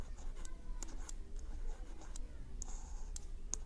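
Faint pen strokes scratch across paper during a maths fraction lesson, short irregular bursts of writing with small pauses between them, close and quiet, no speech.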